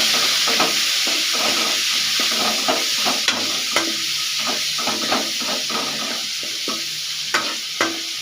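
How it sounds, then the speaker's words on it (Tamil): Chopped onions and tomatoes sauté in a hot pan for a masala curry, a steady frying sizzle and hiss broken by repeated scraping stir strokes from a spoon, close and continuous with no talking. "போட்டு நல்லா வதக்கிக்கலாம்."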